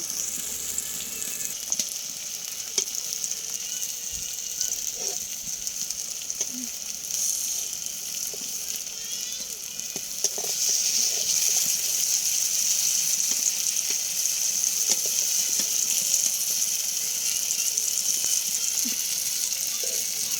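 Pumpkin slices fry in hot oil in a home kitchen, a continuous bright sizzle with crackling pops that grows louder and denser partway through, with occasional utensil clicks and no talking.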